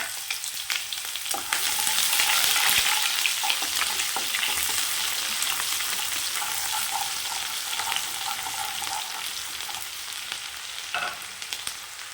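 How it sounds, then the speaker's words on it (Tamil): Chopped large onion fries in a pan for a fish curry, a steady close sizzle with occasional stirring scrapes and no voices. "பெரிய வெங்காயம் சேர்த்துக்கோங்க"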